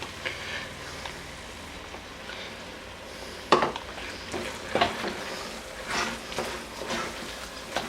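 Flour stirred into fat in a soup pot to make a roux for hamburger stroganoff soup, a soft sizzle under scattered scraping and clinking of a utensil against the pot, fairly quiet and close.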